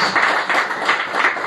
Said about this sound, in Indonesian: Tepuk tangan terbaik buat Tuhan Yesus Kristus.